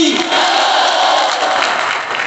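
A crowd at a Navratri religious discourse by a Hindu preacher breaks into loud applause and cheering, a continuous roar of clapping and raised voices that holds strong throughout.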